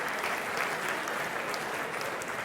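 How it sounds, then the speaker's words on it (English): Audience clapping at a children's awards ceremony, a dense, steady patter of many hands heard from a distance at moderate volume, with no talk over it. "You can clap if you want to."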